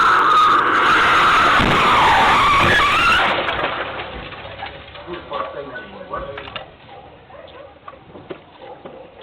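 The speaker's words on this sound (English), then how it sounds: "A speeding car slams into two parked cars." A speeding car skids with a loud tire screech, then slams into two parked cars with a crash and clattering debris that fade into quieter scattered noise.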